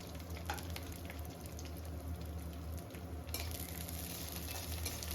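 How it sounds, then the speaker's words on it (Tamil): Dried chillies, ginger and garlic sautéing in hot oil in a pan, a steady soft sizzle and frying hiss with faint stirring, continuous and close throughout. "அதே மாதிரி ஒரு 6-7 பல்லு பூண்டு அதையும் அதில் சேர்த்து நல்லா வதக்கிக்கலாம்."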